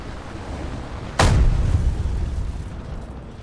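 A BF-109K4 is shot down in a flight combat video game, marked by one loud, sudden burst of gunfire or impact that decays into a rumbling tail over steady engine and wind noise.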